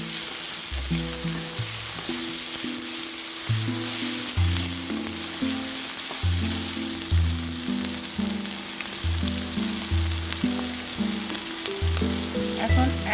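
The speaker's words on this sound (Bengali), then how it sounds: "দিয়ে এখন ভালো করে নেড়ে চেড়ে নিচ্ছি।" Native shingi fish frying in a pan, later cooked with bitter gourd, a loud continuous sizzle under steady rhythmic music, no voices.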